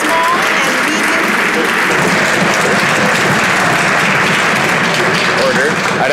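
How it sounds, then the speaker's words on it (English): Members of the Canadian House of Commons applaud during Question Period, a steady, dense roar of many hands clapping and desk-thumping that fills the chamber throughout, with voices faintly mixed underneath. "I'd ask members to hold off on their applause until the members finished asking the question"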